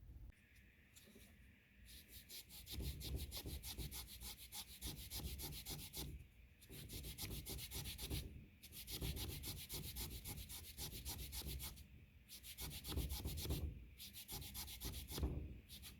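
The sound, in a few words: sanding wood grooves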